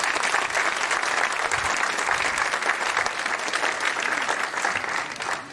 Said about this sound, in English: Give John Garcia a round of applause